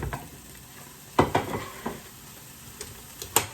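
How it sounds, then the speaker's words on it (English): Rice sizzling in a hot pan while a utensil stirs it, with a few sharp scrapes and clinks against the pan over a steady quiet frying hiss. "I'm going to turn off the heat on my rice. Give it another stir."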